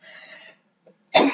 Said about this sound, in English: Sorry guys, I have my cough.